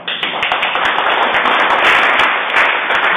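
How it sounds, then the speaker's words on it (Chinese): An indoor audience claps for a testimony, a dense, even burst of many hands for about three seconds, close and fairly loud. "请大家拍拍手"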